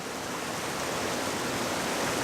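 Autumn waterfall rushing steadily, a loud, continuous broadband roar of falling water with no breaks or voices.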